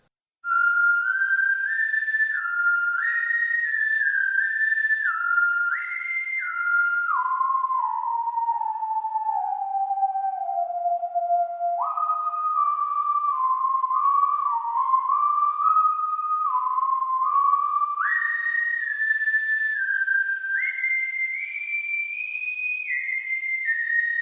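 A smooth ensemble whistling melody glides legato from note to note, the pitch slurring continuously, steady and close with no pauses or talking.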